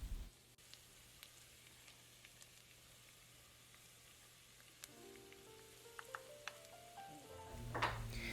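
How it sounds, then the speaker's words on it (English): Minced garlic and ginger fry in a little oil in a wok, giving a soft, steady sizzle like light rain that is quiet throughout, with a few small clicks and clatters near the end. "in the same wok, pour a little bit of oil and then add the rest of the minced garlic and ginger"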